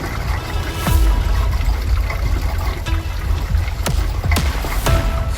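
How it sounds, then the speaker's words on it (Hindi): Water flowing beneath solid rock at a Himachal Pradesh temple housing a water-driven grain mill, a continuous close trickling wash with scattered drips and splashes, no talking. "पानी बहने के साथ एक आवाज सुनाई दे रही थी, लेकिन बहुत धीमी थी।"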